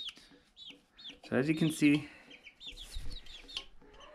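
Mixed backyard chickens, including Araucanas, clucking and calling close by in a small coop with rabbits and goats, with a loud burst of squawking in the middle and a person talking briefly near the end.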